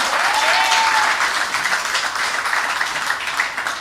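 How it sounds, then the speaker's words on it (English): Enthusiastic crowd applause at a UNC political rally in Tunapuna, Trinidad: loud, dense, continuous clapping that holds strong and tapers slightly at the end. "Give her a round of applause."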